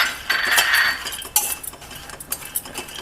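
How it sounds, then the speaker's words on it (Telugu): Cashew nuts go into a pan while dry fruit laddu is being made, giving light metallic clinks and small rattles with brief scraping, close and fairly quiet. "నెక్స్ట్ కొద్దిగా జీడిపప్పు కూడా వేసుకుంటున్నాను"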